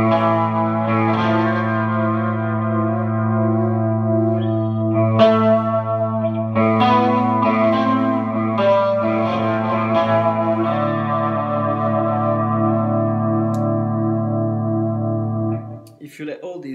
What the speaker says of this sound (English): I've decided to use a chorus, and I've been told they didn't really use a chorus, but the chorus sounds fine to me